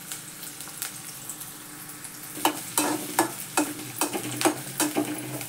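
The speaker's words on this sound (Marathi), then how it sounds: "कोबी परतून घ्यायचं आहे." Cabbage, onion and capsicum stir-fry in a pan with a quiet, steady sizzle, while a spatula scrapes through the vegetables in a series of regular, sharper strokes.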